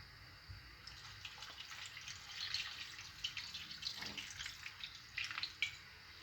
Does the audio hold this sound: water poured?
yes